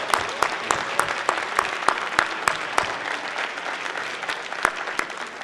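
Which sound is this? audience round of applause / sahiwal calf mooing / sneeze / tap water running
audience round of applause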